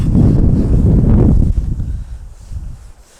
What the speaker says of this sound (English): it would be literally the perfect day today if that wind had just back off a little bit